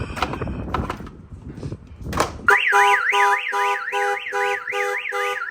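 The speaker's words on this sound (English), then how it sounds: "my alarm was going off" Clattering and thumps give way to a loud car alarm on an SRT Jeep wailing up and down in a rapid, repeating siren cycle close by.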